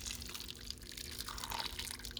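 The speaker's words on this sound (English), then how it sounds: "you take that sauce and pour it all over." Orange chicken sauce is poured over chicken pieces in a bowl, giving a soft, continuous wet drizzling and dripping sound, close and fairly quiet, with no talking.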